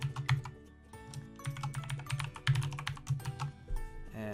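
Computer keyboard typing a user password, a quick close run of crisp key clicks with brief pauses, steady and fairly quiet.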